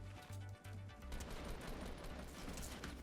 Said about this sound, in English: where am I getting shot at?